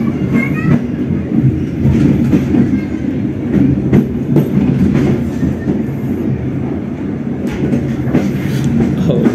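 Train wheels clack over rail joints on a ride into Jakarta Kota station, a steady loud rumble of the carriage with repeated metallic clicks and faint squeals throughout.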